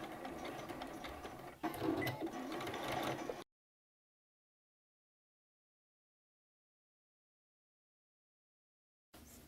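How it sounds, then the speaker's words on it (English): A sewing machine stitches through thick canvas layers for a tote bag with a fast mechanical chatter and a brief stronger burst. It then cuts to silence, and a faint bit of sound returns at the end. "My machine's been having no problem going through all those layers, because even though this canvas is thicker, it's still really easy to sew with."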